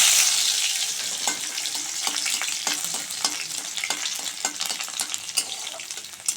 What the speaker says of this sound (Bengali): রসুন দিয়ে দেব।